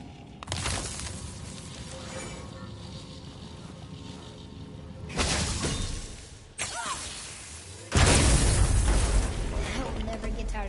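Objects shattering and crumbling in the God of War game on PlayStation 5, three loud bursts of smashing debris with rumbling breakup over continuous game sound.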